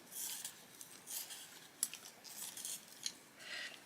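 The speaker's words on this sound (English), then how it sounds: "Let's sharpen up this pencil." Quiet, scratchy rasping in short uneven bursts, a pencil being sharpened close by, with a few sharp clicks between strokes.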